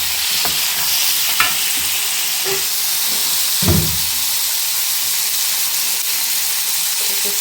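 Onions and tomato frying in a pan at home, a loud continuous sizzle with occasional stirring scrapes and a few clunks over the whole stretch.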